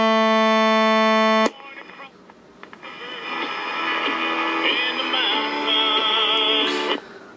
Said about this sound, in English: you can wake up to a buzzer sound